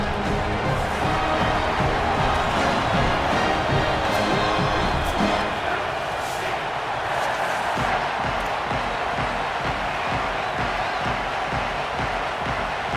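A stadium crowd roars in a college football video game between NC State and UCLA, a dense, continuous wash of cheering noise that holds steady at a loud level for the whole stretch.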